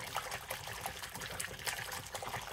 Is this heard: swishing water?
yes